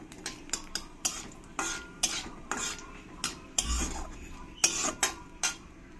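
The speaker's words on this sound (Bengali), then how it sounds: "যখন চটর পটর করা বন্ধ হয়ে যাবে তখন বুঝতে হবে রাঁধুনিটা ভালো করে ভাজা হয়ে গেছে" Half a spoon of radhuni spice frying in a pan, giving a low sizzle crowded with irregular sharp pops and crackles, mixed with the clink and scrape of a stirring utensil.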